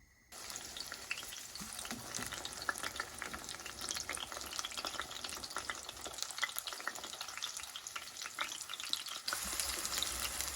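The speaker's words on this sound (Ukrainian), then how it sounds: "Пательню ставлю на плиту, даю трошки олії і викладаю кабачки." Zucchini slices frying in a little oil in a pan on the stove, a continuous crackling sizzle, close and fairly loud, with no talking.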